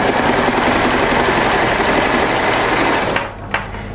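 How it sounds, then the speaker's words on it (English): Sewing machine stitching a sweater seam, a fast steady mechanical whir of needle strokes close up for about three seconds, then stopping with a couple of brief clicks. "And now I can sew this one too."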